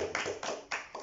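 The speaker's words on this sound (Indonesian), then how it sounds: "Kasih tepuk tangan dulu dong buat Rasya." Classroom children clap in a short, scattered burst. A few uneven rounds of hand claps come close together, fairly faint and without any talk.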